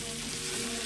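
Chopped tomato hitting a hot pan with fried ginger, giving a dense, continuous close sizzle with faint hum underneath, brief and steady.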